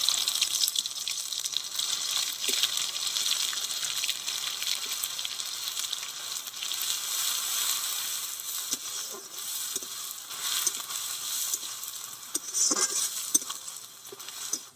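Bay leaf, whole dried red chillies and garlic paste sizzle steadily in hot oil with browned sugar, cooking for a country duck curry, with scattered soft pops and crackles and no voices.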